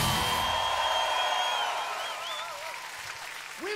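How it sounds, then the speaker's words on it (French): A concert crowd at a rock show applauds and cheers, a dense wash of clapping that fades gradually, with a few whistles rising above the noise. "Je voudrais des applaudissements et des cris"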